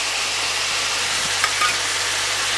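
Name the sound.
ginger frying in a pan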